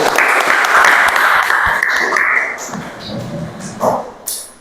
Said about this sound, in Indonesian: tepuk tangan ya buat kelas tinggi